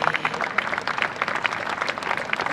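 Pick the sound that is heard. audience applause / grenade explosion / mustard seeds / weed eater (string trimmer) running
audience applause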